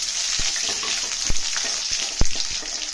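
A tempering for Telugu mango and moong dal fries in a pan, with dried red chilli and crushed garlic in hot oil, giving a close, loud, steady sizzle punctuated by several sharp crackles and pops.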